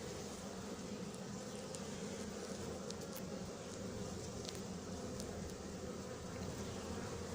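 A large honeybee swarm, including some darker bees, hums as it is hived at Noisy-sur-Ecole, a dense unbroken drone holding level from start to finish with no voices.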